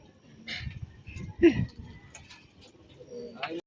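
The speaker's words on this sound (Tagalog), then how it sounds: "Ang dami mo kalapati, pre" Racing pigeons coo softly in low, throaty bursts, with a few higher chirps and rustles nearby.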